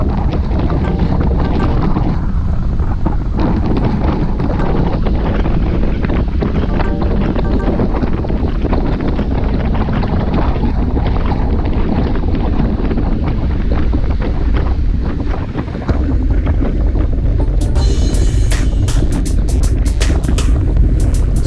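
Strong, steady wind buffeting the microphone while cycling hard into a headwind on hilly roads during a group ride near Lake Conroe, a continuous loud roar that barely eases across the whole stretch, with no talking.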